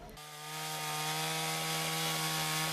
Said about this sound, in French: Les dents aiguisées d'une scie thermique tronçonnent désormais ce bois à la nature peu putrescible